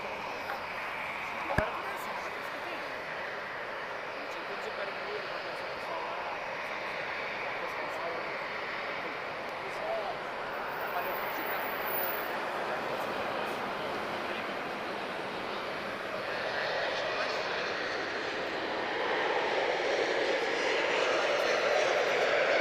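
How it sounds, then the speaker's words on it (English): Wizz Air Airbus A321neo arriving at Lisbon Airport, its engines a steady broad roar that holds evenly at a distance and swells slightly louder toward the end, with one brief sharp click early on. "Our first arrival of the day, it's going to be Wizz A321neo"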